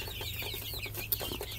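Backyard chickens kept as meat birds cluck in a steady low murmur across the clip, with one brief sharper note near the end.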